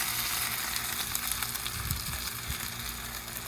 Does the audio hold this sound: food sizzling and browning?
yes